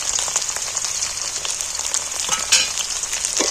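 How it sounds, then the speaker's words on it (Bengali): Chopped ginger and garlic sizzle steadily in hot oil in a pan, a bright continuous crackle close up with small pops and a brief stirring scrape, no voices. "এইটাও একটু হালকা করে ভেজে নেব।"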